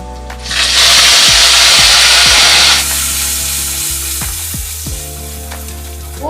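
Onion paste and whole spices (cinnamon, cloves, bay leaf, dried red chilli, cumin seeds) fry in hot oil in a wok: a loud, bright sizzle surges up, then settles into steadier frying broken by a few knocks and scrapes of stirring.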